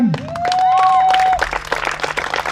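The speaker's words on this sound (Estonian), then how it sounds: "Nii et aplaus neile." Applause breaks out in a stadium crowd for the Estonian national archery team at an outdoor archery competition: dense, rising clapping that builds after a brief tonal whistle, then keeps going strong to the end.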